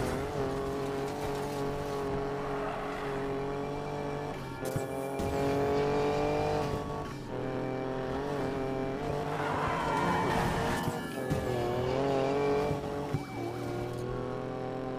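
A police truck rams a fleeing vehicle in the Need for Speed Payback video game, with loud continuous engine roar, repeated tire squeals and skids, and sharp impact bursts throughout.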